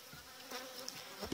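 Honeybees buzz steadily around an opened beehive, a close, even drone that stays faint and alone for a brief moment.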